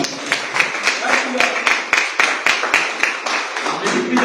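A church congregation claps together in a run of regular, fairly quick hand claps, close and steady, with a voice speaking faintly beneath the claps.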